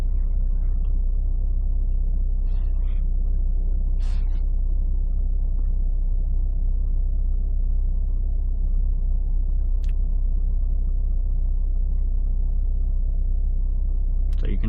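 A car engine idles with a steady low rumble at a busy junction, continuous for the whole stretch, with a few faint brief clicks and knocks over it.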